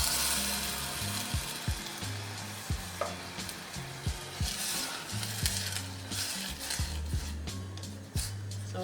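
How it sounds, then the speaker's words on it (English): Tomato hitting a hot pan for a ragu sizzles and crackles steadily, punctuated by repeated soft knocks and scrapes of stirring, with faint tonal sound in the background. "I'm going to add my tomato straight into the pan."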